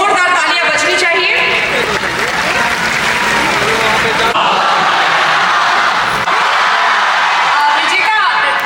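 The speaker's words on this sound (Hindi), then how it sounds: "इनके लिए भी जोरदार तालियां बजनी चाहिए" Large audience applauding at an annual student felicitation ceremony in Patna, loud sustained clapping mixed with whoops, yells and crowd chatter, with a voice speaking over the noise.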